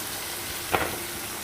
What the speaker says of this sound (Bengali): এই পর্যায়ে আমি চিকেনটা দিয়ে দেবো